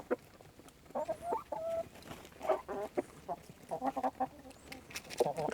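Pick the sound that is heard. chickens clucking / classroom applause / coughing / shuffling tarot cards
chickens clucking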